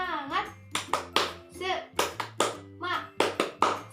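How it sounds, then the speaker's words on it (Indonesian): Primary schoolchildren in a classroom perform a rhythmic ice-breaker clapping game, sharp hand claps punctuating their chanted voices in a quick, patterned sequence. "Tepuk semangat."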